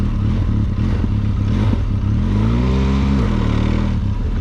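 Adventure motorcycle engine revving steadily while ridden slowly on the throttle, with rising and falling pitch from close by, plus some clatter, continuous and loud with no talk.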